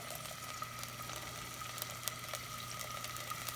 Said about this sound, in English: Just going to saute these for about a minute just to get some of the raw flavor out of there